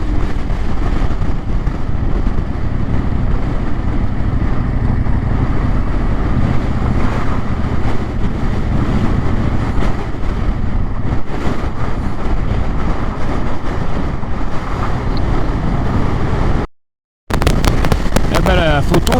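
Heavy, roaring storm wind at Cape North (Nordkapp), Norway, buffets the microphone continuously, a dense low rumble with gusty fluctuations, briefly cutting out near the end before resuming.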